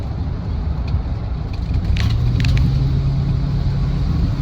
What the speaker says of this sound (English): You may hear a slight sort of ticking rattle.